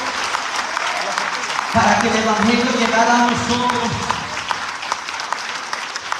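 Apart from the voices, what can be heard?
congregation applauding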